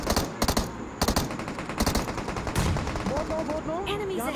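Gunfire in a battle royale video game squad fight, with rapid automatic bursts crackling in close, repeated volleys and a faint voice underneath toward the end.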